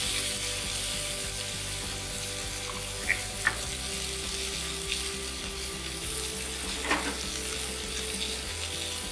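Buttered corn and potatoes sizzle on a griddle for a low country boil: a loud, continuous frying hiss close by, with a few faint scrapes and clicks breaking through.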